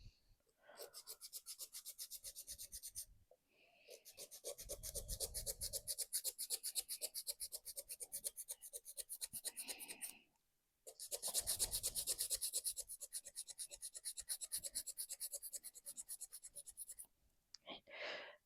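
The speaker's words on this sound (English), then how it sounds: "I'm going to start off by filing up this way at the free edge." A hand file rasps across an acrygel nail extension tip in quick rhythmic strokes, close and crisp, running in three long bursts separated by short pauses.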